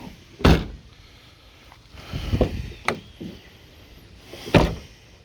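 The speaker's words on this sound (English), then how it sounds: "I got the door shutting good." Door of a worn 1997 Dodge Ram pickup being shut after cutting work, giving a few separate loud thumps and knocks spread over several seconds with no talking.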